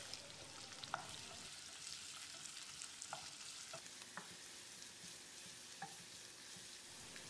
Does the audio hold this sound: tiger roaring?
no